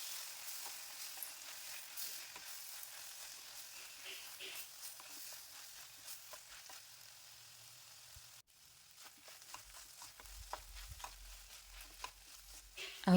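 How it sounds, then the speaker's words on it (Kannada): Fresh field beans (avarekalu) with curry leaves fry in oil with a faint, soft sizzle, broken by a few light stirring clicks and a clunk partway through, fairly quiet overall. "ಇದನ್ನು ಎಣ್ಣೆಯಲ್ಲಿ ಒಂದೆರಡು ನಿಮಿಷ ಫ್ರೈ ಮಾಡ್ಕೊಳ್ಬೇಕು."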